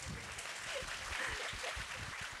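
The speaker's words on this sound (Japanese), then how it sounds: "すごい拍手ありがとうございます。" Applause from an audience at a live Japanese entertainment event, a soft, steady patter of clapping heard at a distance and quite faint throughout.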